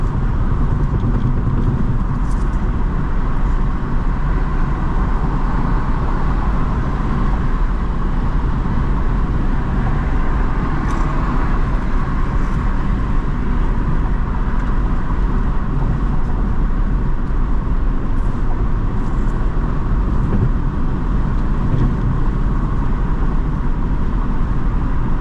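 A car interior while driving at night is filled with a loud, constant road and engine rumble, with steady tyre and traffic noise and no speech.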